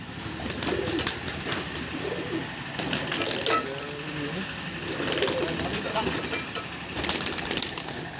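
Pigeons kept for sale by a Bengali fancier coo repeatedly in bursts close by, with background noise and occasional talk between the calls.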